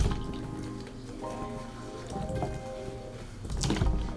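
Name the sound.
wig dipped in water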